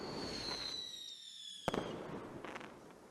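Fireworks go off in a storybook setting: a whistling rocket rises, then a sharp bang with crackling bursts follows, a few more faint pops trailing after, fairly quiet overall.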